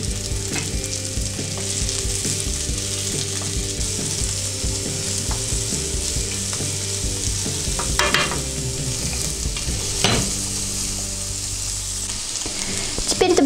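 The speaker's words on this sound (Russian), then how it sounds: "Теперь добавляем перец и чеснок и обжариваем до мягкости перца." Bell pepper and garlic sizzle steadily in a frying pan, with occasional scrapes and clinks of stirring over the continuous crackle.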